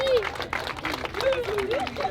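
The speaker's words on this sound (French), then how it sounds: "Applaudissez-le, bravo." Applause and clapping from a small group of people at an outdoor clean-up event in Marseille's Old Port, steady and moderately close, mixed with crowd chatter and a voice talking over it.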